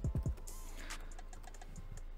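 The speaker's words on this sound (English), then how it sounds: "And we can add a comment by just typing" Quick clicks of a computer keyboard as a comment is typed into a Django web app, a short burst of keystrokes near the start and another at the end, close and clear over a low steady hum.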